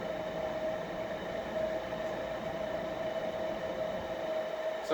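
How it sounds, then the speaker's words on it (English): A small ceiling fan in rough shape with worn bearings runs steadily, giving a constant whirring drone with a faint tonal hum and no breaks, heard alone at moderate level. "impressive airflow for a small fan, but yeah, this is in rough shape in all kinds of ways"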